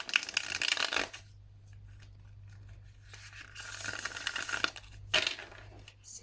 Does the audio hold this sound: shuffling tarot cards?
yes